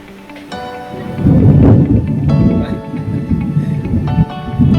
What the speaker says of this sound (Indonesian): Guntur, Guntur.